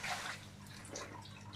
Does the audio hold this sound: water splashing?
yes